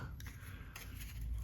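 Paper being torn by hand for a collage, a few short dry rips and crinkles, close and fairly quiet, no talk.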